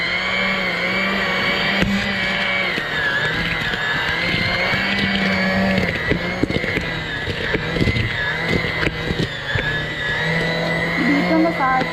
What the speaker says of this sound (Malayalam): ബീറ്ററിൻ്റെ സഹായത്തോടു കൂടി ബട്ടറും പഞ്ചസാരയും നല്ലോണം അടിച്ചെടുക്കുക.